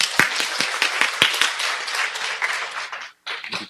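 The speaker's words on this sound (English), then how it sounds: "give a warm round of applause to Dr." Warm applause from a tech summit audience, a dense flurry of claps with a few sharp close strikes, which fades, stops briefly, then resumes in a short final spatter.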